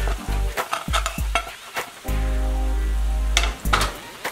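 Tofu and broccoli stir-fry in a pan, with a utensil scraping and clattering against the metal as they are mixed. Steady sizzling rises and falls beneath the stirring, close and fairly loud, with no voices.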